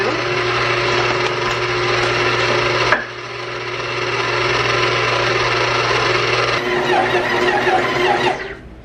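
Stand mixer kneading dough at low speed, a steady motor whir with a constant low hum and rubbing texture running throughout, briefly dipping near three seconds before continuing, then stopping at the end.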